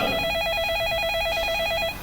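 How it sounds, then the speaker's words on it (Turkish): A telephone rings steadily with a warbling electronic tone, continuous and fairly loud, with no voices over it. "Hocam telefon. Duyduk."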